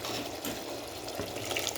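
A pot of vegetable curry with tamarind bubbles on the stove, a soft continuous simmering hiss with occasional faint stirring clicks, fairly quiet and alone.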